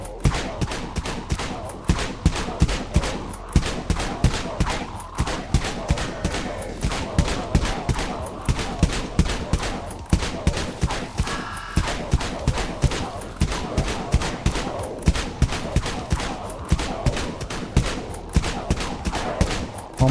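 Dual Broncos pistols fire in the Dead Frontier video game as a dense, continuous stream of loud, rapid shots that runs for the whole stretch with no break.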